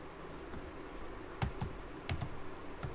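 Typing on a computer keyboard: a handful of quiet, irregular key taps, some in quick pairs, near but soft over a faint background hiss, with no talking.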